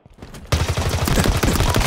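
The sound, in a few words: Gunfire from the Skewer weapon in Halo Infinite, a video game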